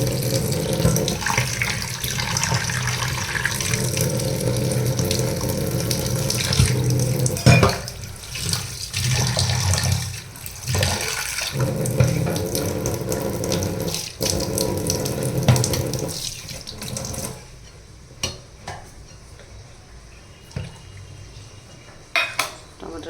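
Cut tomatoes rinsed under a running kitchen tap for an arhmach fish dish, a steady splashing stream into the sink with occasional clinks of dishes; the flow stops near the end, leaving quieter handling sounds.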